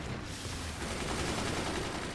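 Cannons firing in a robot combat video game, a dense, continuous barrage of blasts and crackling impacts that stays loud and unbroken throughout.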